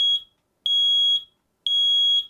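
Kidde smoke alarm sounding in loud, piercing high-pitched beeps, three pulses about a second apart, close and alone with no talking.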